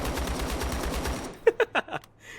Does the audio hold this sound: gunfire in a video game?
yes